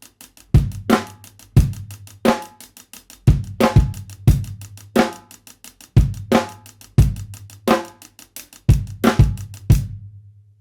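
Drum kit playing a half-time rock groove with an even bed of 16th notes, heavy kick and snare backbeats repeating steadily for several bars, close and loud with no voices, ending abruptly.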